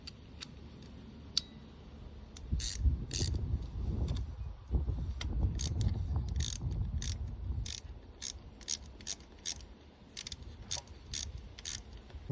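Ratchet tightening a radiator bracket on a Honda CBR650R motorcycle, a series of quick clicking pawl ticks with some handling rustle, close and fairly quiet, no talking.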